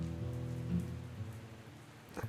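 Steady rain falls at a festival, a continuous soft patter on surfaces with a low hum underneath and no voices, ending in a brief louder splash.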